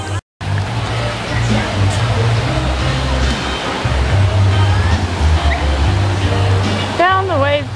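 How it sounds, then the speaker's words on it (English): Waves at a Blizzard Beach water park wave pool slosh and churn in a steady, loud wash of water noise, with a brief voice near the end. "Found the wave pool"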